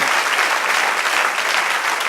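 Church congregation applauding during a sermon: a dense, even wash of many hands clapping, loud and continuous throughout with no talk over it.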